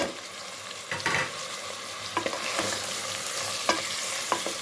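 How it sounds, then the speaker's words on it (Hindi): Mutton frying (bhuna) in a pan over low-medium flame, an even, close sizzle with occasional scraping knocks of a spoon as the meat is stirred, no voices. "लो एंड मीडियम फ्लेम में हमने इसे भूनना है।"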